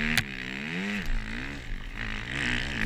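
A Timbersled snow bike engine climbs uphill through deep snow at near full throttle, a loud, steady, rising and falling drone that sounds close and continuous throughout.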